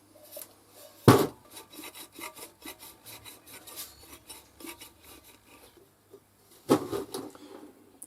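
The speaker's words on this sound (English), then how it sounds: "I'm just going to clean it as best I can, dry it all out" Repeated scraping and rubbing strokes inside a metal vintage greenhouse heater oil lamp, with two sharp knocks, one early and one later, all close and fairly quiet.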